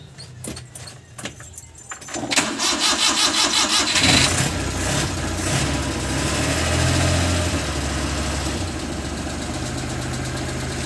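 A Suzuki F6A engine, just fitted with a new water pump after overheating, cranks and catches after a few seconds of key and starter noise, then settles into a steady, loud, close idle that runs to the end.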